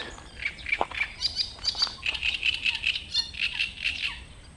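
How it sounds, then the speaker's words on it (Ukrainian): Small birds chirp and tweet repeatedly in high, quick bursts throughout, with a brief lower call early on, over quiet outdoor background at a fishing spot. "а ці пташки не дають розмовляти, перебивають"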